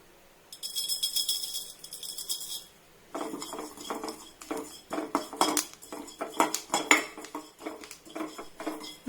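Fennel seeds being dry-roasted and stirred in a metal pan, with a faint scraping hiss at first and then a steady run of close, rattling clinks and scrapes of the spoon against the pan.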